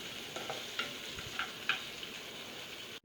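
Onions and curry leaves sautéing in a pan, a low steady sizzle with a few soft stirring scrapes, close and quiet, ending in a brief louder knock.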